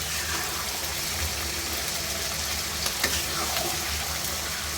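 Fried chicken pieces being sautéed with spices in oil for a chicken roast, a low, busy sizzle under steady background noise, with a couple of brief clicks from stirring.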